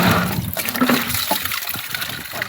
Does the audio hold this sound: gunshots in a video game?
no